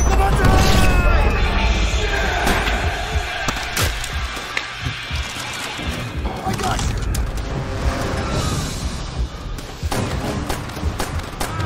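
Demolition charges explode in the video game Call of Duty: World at War, heavy booming blasts and rumbling explosions layered with gunfire-like crackle and distant shouting voices, loud and dense throughout.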